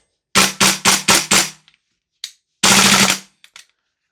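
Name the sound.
airsoft Noveske MWS rifle firing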